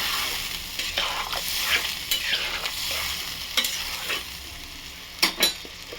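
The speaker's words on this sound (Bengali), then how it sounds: "খুলে আমি জল ঢেলে দেবো।" Water is added to a hot pan of frying potato and cauliflower, setting off a steady hiss and sizzle, with occasional scraping and clinks from stirring and a couple of sharper bursts toward the end.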